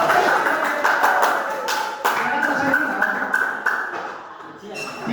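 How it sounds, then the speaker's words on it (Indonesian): Audience applause in a classroom or group session in Indonesia, steady clapping from several people throughout, with a voice briefly talking over it. "Tepuk tangan untuk Mas Luki."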